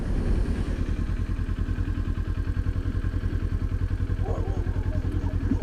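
A Kawasaki Ninja 400 motorcycle engine runs steadily up close, a continuous low, pulsing throb that holds at an even level throughout.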